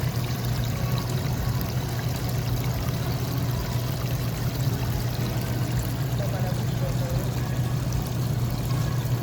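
Water bubbling and churning steadily in a supermarket lobster tank, a constant aerated rush with a low hum underneath, while people talk nearby.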